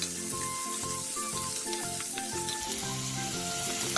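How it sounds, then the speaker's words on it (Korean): Julienned potatoes sizzling in hot oil in a deep pan, a steady frying hiss with recurring scraping stir strokes and faint clinks, close and fairly loud, no talk. "오목한 팬에 기름을 두르고 채 썰어 놓았던 감자를 넣어 살짝 투명해질 때까지 볶아주세요."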